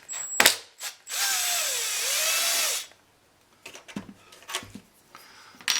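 Screw being driven out of a Poulan Pro 25cc 2-cycle leaf blower with a power driver, a steady whining burst lasting about two seconds, framed by sharp clicks and handling knocks of tools and plastic.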